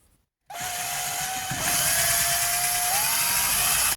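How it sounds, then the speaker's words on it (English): A power drill whines steadily as it bores a hole for an oil line in a Reliant Kitten car, its pitch stepping up slightly partway through, loud and close with no talking. "now we've drilled a hole there for the oil line"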